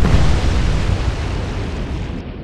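Naval gunfire and explosions in the warship game Atlantic Fleet: one loud, heavy rumbling boom that starts at once and rolls on for a couple of seconds, slowly fading, with no talk over it.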